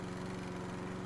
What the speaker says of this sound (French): Allez, j'éteins même pas la tondeuse.